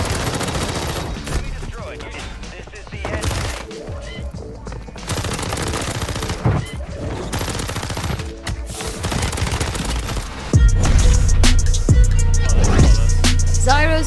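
Full-auto Renetti pistol with a conversion kit in Warzone 3, loud close bursts of rapid gunfire in several runs with short gaps, ending in a heavier, sustained burst.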